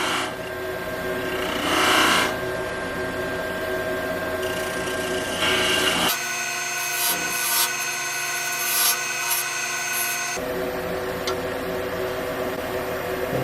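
Woodturning lathe cutting a slight taper on the leg of a wooden Christmas ornament, a continuous loud rasping, scraping whir that shifts in tone partway through and runs without talk.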